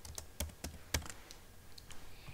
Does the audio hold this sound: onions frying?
no